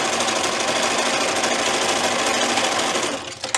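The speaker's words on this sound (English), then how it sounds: "I'm just going to put it right into my sewing machine" A sewing machine runs steadily at high speed, its fast mechanical stitching whir continuous and close, slowing to a stop at the very end.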